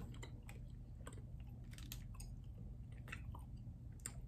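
Someone gnaws on a hard Charleston Chew nougat candy, giving close, faint, irregular wet clicks and squishes over a steady low background hum, with no talking.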